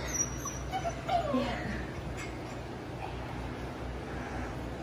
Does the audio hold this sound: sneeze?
no